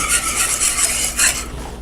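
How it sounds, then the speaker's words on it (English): A whisk scrapes rapidly and rhythmically against a pan as chicken gravy mix is stirred, a loud, close, raspy swishing that eases off at the end. "we're just going to whisk this until it boils"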